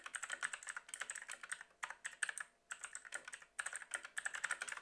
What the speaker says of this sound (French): le bruit il est incroyable, c'est des switches bleus, et vraiment ce clavier il est juste fou